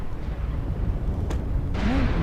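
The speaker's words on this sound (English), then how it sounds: "Warning, incoming missile." An incoming missile explodes in the mech combat game Mechwarrior Online: a brief broadband crack, then a louder sustained blast with a rising, falling whine riding on top, all over a continuous low game rumble.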